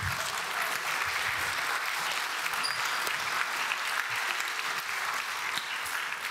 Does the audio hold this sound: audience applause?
yes